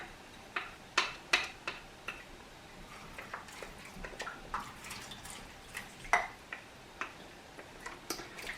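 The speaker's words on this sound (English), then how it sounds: "And then I add my lentils." Small hard lentils dropping into a metal pot for a lentil curry soup, a run of sharp ticking clicks at an irregular pace, close and fairly quiet.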